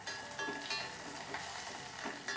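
Dried red chillies and curry leaves sizzle in hot oil for a Kerala ripe mango curry while being stirred, a soft, faint, even hiss with periodic scraping strokes of the spoon.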